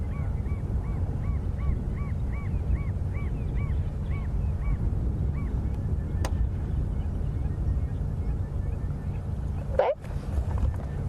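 Geese honk at Arathusa Dam on a safari drive, a steady series of repeated nasal calls over several seconds against constant low wind rumble, somewhat distant, followed by a brief louder squawk near the end.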